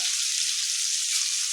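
Ground onion paste sizzles loudly and steadily in a hot pan with mustard seeds and cumin, a close, continuous hiss that never lets up.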